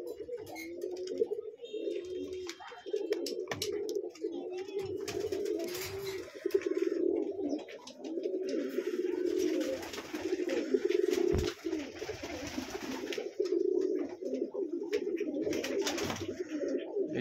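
Pigeons in a loft coo continuously and close by during morning feeding, low throaty calls overlapping in a steady chorus with scattered shuffling and wing noise, no talking.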